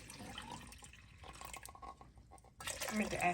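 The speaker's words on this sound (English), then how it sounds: "We'll take our water and our milk and add those in." Water and milk are poured in for a chocolate cream pie filling, a soft liquid pour and splashing under quiet talk, growing louder at the end.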